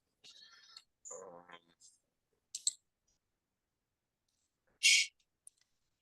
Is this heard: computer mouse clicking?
yes